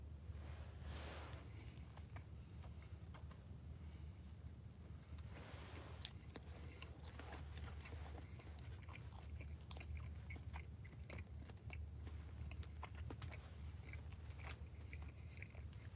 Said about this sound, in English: Can y'all hear me chewing? Is it that loud?